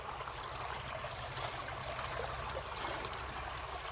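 Water gushes from a hole in the rock on a woodland walk, a faint, steady rushing hiss that runs unbroken and sounds fairly distant, with no talking.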